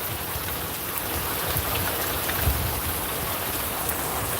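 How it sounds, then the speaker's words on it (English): Heavy rain pouring down in hot weather, a dense, steady hiss of drops on surfaces, loud and continuous with no voices. "It's coming down for sure."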